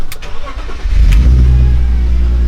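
An old-school Mitsubishi 3G8 engine cranks briefly, catches and settles into a loud, steady idle close by, with a low rumble filling the rest of the moment.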